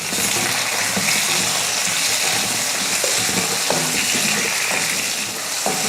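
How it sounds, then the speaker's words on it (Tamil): Onions and two medium tomatoes sauté in a pan for anchovy fish curry, a steady close frying hiss with occasional stirring knocks and spoon scrapes, no talking over it. "ரெண்டு தக்காளி நான் சேர்த்துக்கிறேன் மீடியம் சைஸில் ரெண்டே ரெண்டு தக்காளி இதையும் வதக்கிக்கலாம்"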